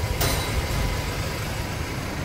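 A Chevrolet S10 flex-fuel Otto-cycle engine idles steadily and quietly as a low, even hum, with a brief sharp click near the start and no talking.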